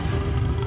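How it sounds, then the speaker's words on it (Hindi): A short, loud tiger roar from a Hindi animated story, set where goats graze as the tiger runs closer; a dense, rumbling growl fills the moment with no talk. "गोलू जानवर की दहाड़ को कोसों दूर से सुनकर महसूस कर सकता था"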